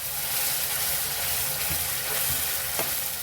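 Cumin seeds crackle and sizzle in hot oil in a pan, a steady close frying hiss with a few sharp pops and stirring clatters.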